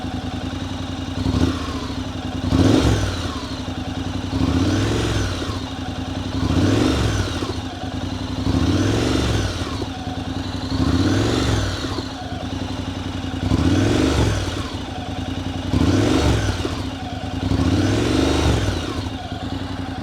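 A Honda NC750X motorcycle fitted with a Delkevic 340mm exhaust idles close by and is blipped repeatedly, about nine short revs in a steady rhythm over a low thumping idle.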